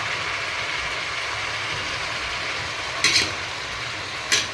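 Mixed vegetables for vegetable biryani sauté in a pan, giving a steady, close frying hiss throughout with two brief sharp scraping stirs near the end and no talking.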